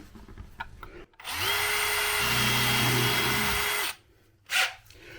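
A power drill whirs steadily for a few seconds at close range, drilling a hole, winding up and then cutting off, with a brief burst of noise afterward.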